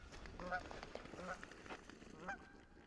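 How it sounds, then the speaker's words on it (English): A goose honks several times by a river crossing, short nasal calls at moderate distance over outdoor ambient noise, with a person speaking quietly. "What have we here? A goose"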